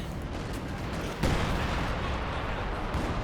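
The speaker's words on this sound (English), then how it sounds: "now we've got a artillery strike" Artillery strike landing in the Company of Heroes 2 battle game, a dense roar of blasts and rumble that surges sharply and stays loud and sustained, like a continuous barrage close by.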